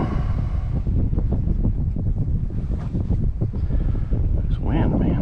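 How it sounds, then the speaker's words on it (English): Wind buffets the microphone on a boat during bass fishing on a lake, a continuous low rumbling roar with gusty bursts, and people talk over it. "This wind, man."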